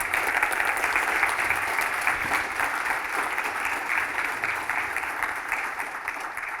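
Conference audience at Tech at the Gap 2024 applauding after Jasmine Crowe-Houston's talk, a steady, dense wash of clapping from a large crowd that holds evenly for several seconds.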